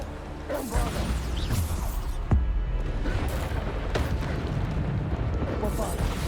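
Bombarda blasting spell explosions in the Hogwarts Legacy video game, loud booming crashes and whooshes layered over constant combat noise, with a dull impact and deep rumble partway through.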